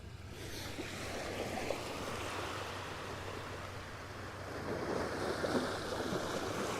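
Ocean waves wash in steadily at Shelly Beach, a continuous close surf roar with wind buffeting the microphone and a swell in loudness near the end.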